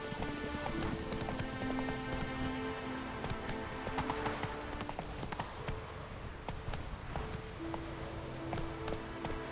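Horse hooves clip-clop at a steady trotting rhythm while riding in The Witcher 3, the close, continuous hoofbeats laid over sustained musical tones for the whole stretch.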